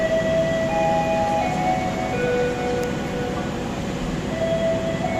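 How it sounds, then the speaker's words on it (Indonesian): The Cikuray passenger train stands at a station platform at night before departure, giving off a loud, steady engine rumble with sustained tonal whines above it. "Kereta api Cikuray persiapan untuk diberangkatkan"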